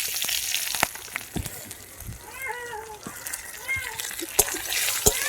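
White cumin sizzling in hot mustard oil along with cardamom, cinnamon, cloves and bay leaves, a steady close frying hiss with occasional crackles and pops, while someone talks over it.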